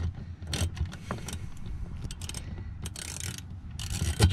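A small ratchet loosens 7mm bolts on the fuel pump cover of a Ford Fusion 2.5 L, with quick clicking pawl strokes, metallic clinks and handling noises close up in a quiet garage.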